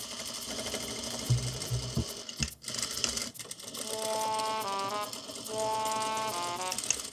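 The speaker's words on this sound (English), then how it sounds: "So let's head over to the sewing machine and actually do that" A sewing machine stitches down boning channels on a corset made from birthday candles, its steady mechanical whirr running in sustained bursts with brief pauses between passes, alone with no talk.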